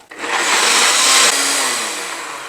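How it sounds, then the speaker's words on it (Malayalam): Electric mixer grinder whirring loudly as it blends dried Kashmiri chili and garlic with vinegar, sugar and salt into a paste for spicy garlic mushroom masala; a steady close whine that dips in pitch midway and tails off. "ഇനി ഇത് നമുക്ക് നല്ല പേസ്റ്റ് പോലെ നരച്ചെടുക്കണം"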